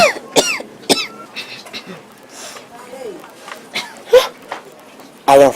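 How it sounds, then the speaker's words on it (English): A person coughs repeatedly in harsh, irregular bursts, some with a throaty clearing quality, separated by short pauses and breaths, with voices speaking intermittently in between. "What have you done about that cough?"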